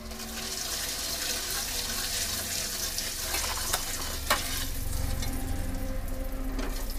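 Turmeric and salt sizzling steadily in hot frying oil, a continuous broadband crackle and hiss heard up close, with a couple of sharper pops breaking through and no talking.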